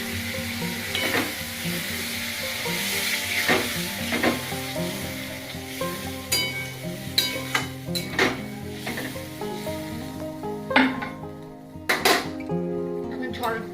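Water is added to fried masala in a pan for a fish kofta curry, bringing a strong continuous sizzle with stirring and repeated sharp clinks of a metal spoon against the pan.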